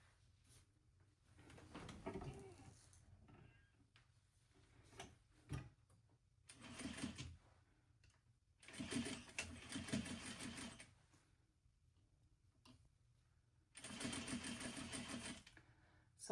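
A domestic sewing machine stitches in several separate runs, each a few seconds long, with quiet pauses between them. The whirring is fairly faint and close by.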